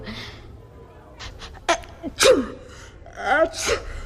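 A sharp allergy sneeze bursts out in a classroom amid gasping breaths and a short voice, followed by another breathy sound, close by.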